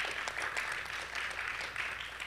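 Talk show audience applauding, a steady wash of many hands clapping at moderate distance, sustained for the whole stretch without voices over it.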